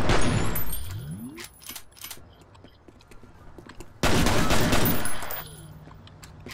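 Loud bursts of gunfire in the shooter game F.E.A.R., a heavy volley at the start, scattered shots and clinks in a quieter middle, then another intense burst of firing.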